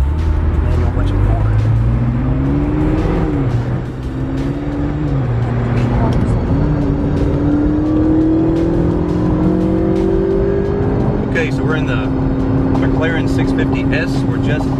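A McLaren 650S sports car engine drones steadily at high speed near Las Vegas, its pitch rising and falling through gear changes, with wind and road noise constant throughout.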